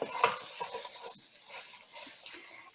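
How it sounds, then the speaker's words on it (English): Beef and vegetables sizzling in a pan while being stirred, soft scraping and clinks over a quiet background fry, close and fairly faint. "Give it a nice stir."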